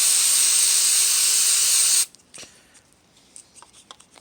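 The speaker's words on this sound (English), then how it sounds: "make sure you spray the cleaner right in there." A steady, loud aerosol cleaner hiss sprays onto the mass air flow sensor of a 2003 Hyundai Santa Fe continuously for about two seconds, then cuts off, leaving faint clicks and handling noises.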